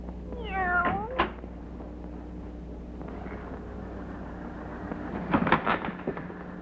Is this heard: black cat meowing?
yes